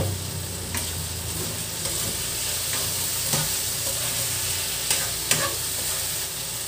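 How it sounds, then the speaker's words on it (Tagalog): Chicken fries in a pan toward golden brown, giving a constant dense sizzle with occasional scraping stirs and light taps against the pan. "Golden brown lang natin yung ating chicken."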